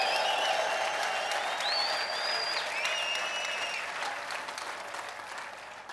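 A church congregation claps in a sustained burst of applause, high trilling ululation rising above it before the sound gradually thins and fades.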